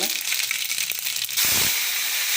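Mustard seeds crackling and spitting in hot oil while tempering for roadside-style sambar, a dense steady sizzle that swells louder partway through; no one speaks.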